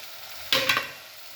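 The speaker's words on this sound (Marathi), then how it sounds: "राजमाही आपल्याला याच्यामध्येच असं छान परतून घ्यायचा आहे" Rajma is stirred in a hot tempering in a pan, with a low frying sizzle and a short burst of scraping and sizzling near the middle that fades back to a gentle hiss.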